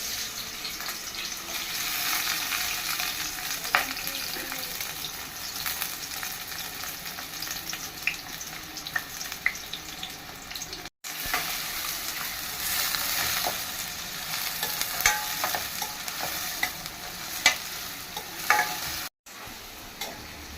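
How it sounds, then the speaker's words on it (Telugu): Onions frying in oil for mutton curry, a long, even sizzle with intermittent spoon scrapes and clicks against the pan, close and steady, with two brief dropouts. "ఉల్లిపాయ వేగిందా? వేగుతుంది."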